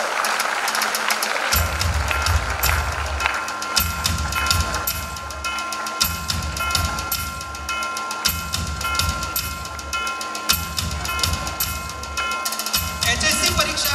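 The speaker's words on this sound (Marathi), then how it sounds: "जोरदार टाळ्या वाजून आपण सर्वांनी या गुणी विद्यार्थिनीचं कौतुक करावं" An audience at a school event claps loudly for a high-achieving student, dense sustained applause filling the whole stretch with rhythmic pulses underneath.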